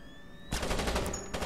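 Turret in the stealth game Splinter Cell opening fire at a light, a sudden loud burst of rapid automatic gunfire after half a second of quiet room tone, continuing hard to the end.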